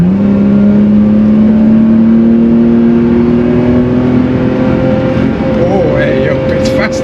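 An Aston Martin DB7, a unique one-off, accelerates hard, its engine note climbing steadily in pitch as it pulls, loud and close, then settles into a higher whine with faint extra noise toward the end.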